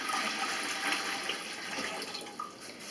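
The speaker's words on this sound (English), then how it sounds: "So I'm going to put a gallon of water in here." A gallon of water gushes into a cooking pot for brining lamb, a continuous rushing, splashing pour that stays steady and close before easing slightly near the end, with no talk.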